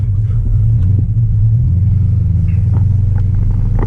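An LS-engined car is put into drive in an empty parking lot, its engine idling with a steady low rumble that continues as the car starts rolling slowly.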